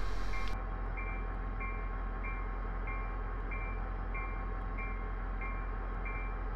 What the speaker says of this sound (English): I've shut off power to let the train coast until we're able to accelerate further.